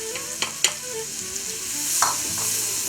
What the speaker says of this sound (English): I just melted 4 tablespoons of butter in my kettle. I'm going to add a giant onion